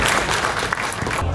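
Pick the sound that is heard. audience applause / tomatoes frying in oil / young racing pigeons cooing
audience applause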